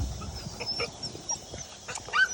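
Rabbit hunting dogs gathered at a camp give soft whimpers and short high yips, faint and scattered, heard alone with no talking.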